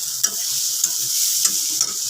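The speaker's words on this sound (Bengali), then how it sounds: "আজকেও করছি শাক ভাজা।" Leafy greens frying in a pan, a continuous close sizzle with four soft stirring scrapes spaced through it, no voices.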